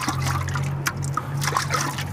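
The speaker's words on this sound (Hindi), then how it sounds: "सबसे पहले हमें गुनगुने पानी से वो थनों को अच्छे से साफ कर लेना चाहिए" Lukewarm water trickling and splashing as it is poured to wash a cow's udder and teats before hand milking, a steady close dribble with small splatters over a low background hum.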